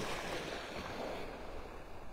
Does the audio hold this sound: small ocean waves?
yes